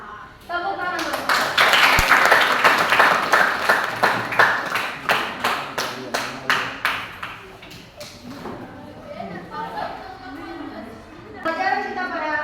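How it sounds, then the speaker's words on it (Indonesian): A classroom of students claps hands together in a rhythmic burst of sharp claps that gradually thins out, with a teacher's voice and some chatter over and after it. "Ya, tepuk tangan dulu."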